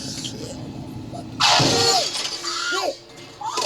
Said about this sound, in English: He crashed the fucking car!